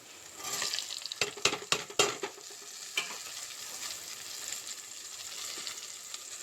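Ivy gourds stir-fried with turmeric in hot oil sizzle steadily, with a handful of sharp scraping stirs clustered early and a lighter one later, close and moderately loud.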